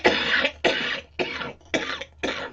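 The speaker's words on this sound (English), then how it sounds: "That's a smoker's cough." A harsh smoker's cough bursts out five times in quick succession, each hack rough and close with brief gaps between.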